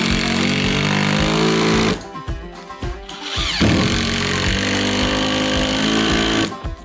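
A power drill drives screws into a shed door frame, whirring loudly in sustained bursts with a short pause and a rising restart partway through, heard close up with no talk.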